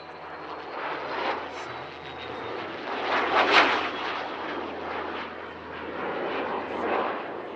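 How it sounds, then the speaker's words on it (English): A Dassault Rafale jet flies alongside a Rafale C at an air show at La Ferté-Alais, a broad roaring engine rush that swells to a loud peak overhead and then fades back to a sustained rumble. "After its solo routine, the aircraft flew alongside its namesake, the Dassault Rafale C."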